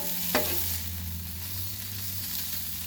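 Pork and peppers are stirred together on a Blackstone griddle, with a steady sizzle of frying, one sharp scrape of a spatula near the start, and softer stirring after it.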